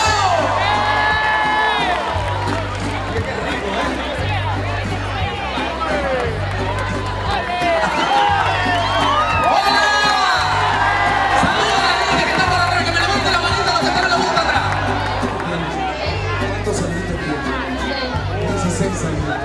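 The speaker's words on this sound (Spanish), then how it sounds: "un aplauso fuerte para ustedes. ¡Aplauso, aplauso!" A live concert in O Burgo on the 2018 tour, with the audience cheering, whooping and shouting continuously and loudly over pounding, steady bass-heavy music.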